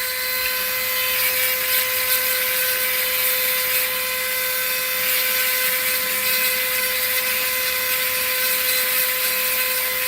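A small high-speed rotary drill grinds away rock matrix around an agate, a constant hissing whine with a steady tone, close and continuous without speech.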